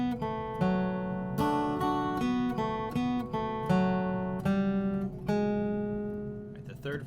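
Played slowly on guitar, the second phrase of a song comes through as a close, clean sequence of plucked single notes and brief double-stops, each left to ring, with no voice over it.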